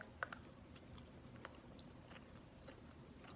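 Quiet close-up chewing of a shrimp lunch, with a crisp bite at the start followed by soft, irregular mouth sounds over faint room noise.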